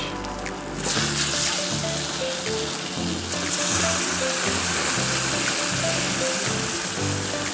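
Fish frying in saffron butter in a restaurant kitchen in the Seychelles, a loud, dense sizzle that starts abruptly and continues steadily, with low music underneath.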